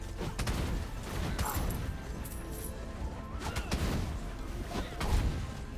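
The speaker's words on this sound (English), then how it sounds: "The explosion actually blows the hatchet forward." An explosion in Rogue Legacy 2 bursts out amid a dense, busy game soundtrack, with sharp crashing blasts near the start and again later among layered clatter.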